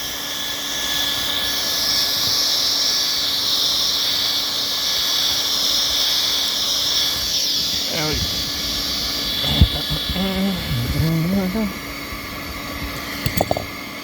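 A hot air welder heats TPO roofing membrane outdoors, producing a steady loud hiss and whine throughout, with someone talking briefly partway through.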